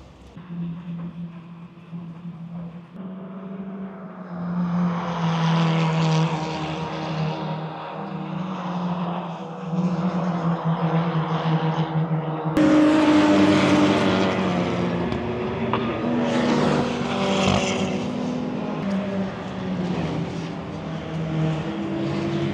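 Touring race cars of the Baltic Touring Car Championship final stage at the Tor Poznan racetrack roar past, engines droning and rising in pitch as they approach, then a louder, harsher surge as more cars sweep by close.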